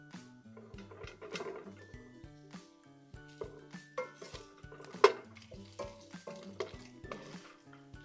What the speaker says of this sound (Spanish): vamos a empezar poniendo los ingredientes que sueltan más grasa, que son el chorizo y el tocino